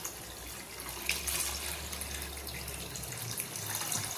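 Boiling water is poured from a stovetop vessel into a cooking pot while making a spiced pearl millet porridge, giving a steady close splashing stream that runs for about three seconds, then eases off.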